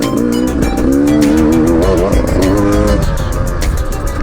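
Beta 200 RR two-stroke motorcycle being ridden, a loud, close, buzzy engine whose pitch rises and falls with throttle, ringing steadily throughout.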